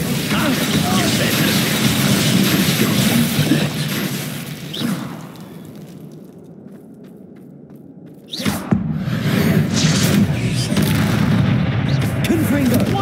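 Confringo fire-blast spell in the video game Hogwarts Legacy, loud booming explosive bursts over dense combat noise, with a sudden sharp blast after a brief quieter stretch.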